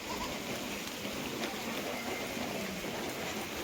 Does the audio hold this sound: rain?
yes